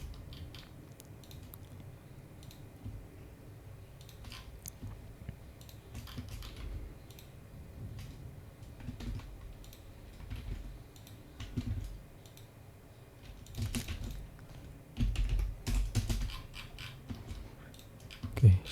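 Soft, scattered computer keyboard typing at a desk during 3D building modeling work, quiet clicks and occasional bursts of keys over low room hum.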